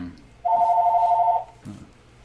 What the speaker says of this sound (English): who's calling my phone?